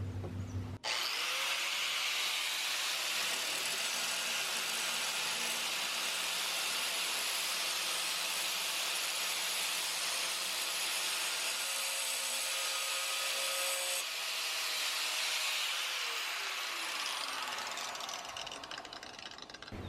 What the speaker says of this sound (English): The provided cutoff disc is really thick, and so it took a little bit of time to get that cut through.